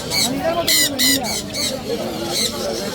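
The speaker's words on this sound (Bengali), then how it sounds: "সুন্দর সুন্দর পাখি কিচির মিচির আওয়াজে" Repeated bright squawking bird calls in quick bursts, close and loud, at a bird market in Mirpur 1, with a voice talking underneath.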